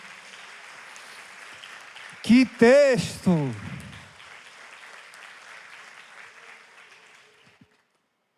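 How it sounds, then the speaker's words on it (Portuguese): A church congregation clapping, with a steady bed of many hands applauding throughout. A voice speaks briefly over the top partway through, and the applause fades near the end. "Dê uma salva de palmas a Jesus."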